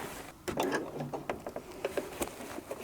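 A sewing machine stitches regalia between elastic channels, back tacking, in short rapid mechanical bursts and taps, close and fairly loud, with brief pauses between runs.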